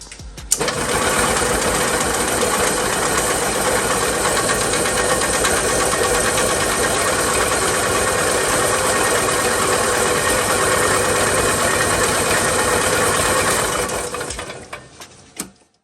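A 1978 EZGO three-wheel gas golf cart engine, after sitting for decades and apparently flooding, runs rough with a loud, steady, knocking clatter for about fourteen seconds before dying down.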